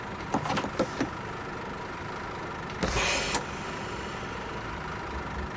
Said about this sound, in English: here's listen to the handbrake sounds